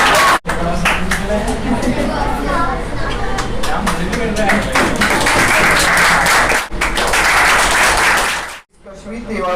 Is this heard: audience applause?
yes